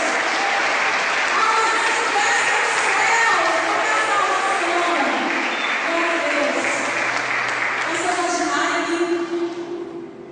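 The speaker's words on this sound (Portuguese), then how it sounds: "Aplauda Jesus, queridos." A church congregation claps together in a sustained burst of applause that swells and then fades, with voices mixed in.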